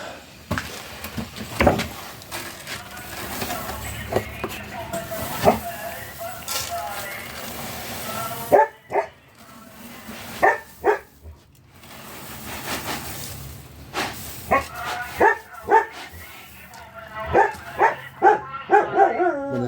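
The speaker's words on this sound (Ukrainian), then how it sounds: "собака виє." A dog barks and howls in short bursts at pigs being weaned and moved, with a few yips and whimpers, over people talking nearby; the barks cluster toward the end.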